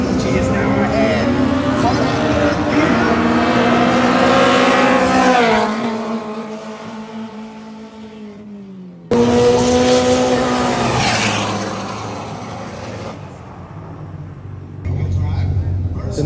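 High-revving engines of 1000+ horsepower Honda EK and EG drag cars screaming down a Philippine drag strip, a loud rising roar that cuts out abruptly then returns with another pass, with spectators talking over it.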